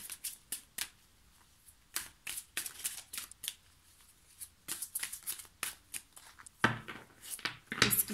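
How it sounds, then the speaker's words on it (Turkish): Tarot cards are shuffled and pulled from a deck, giving quick papery riffles and light snaps in uneven bursts with short pauses, faint and close, and the final burst is a little louder. "Şimdi Lisa Parker destesini seçen arkadaşlarım için 5 tane kart seçiyorum"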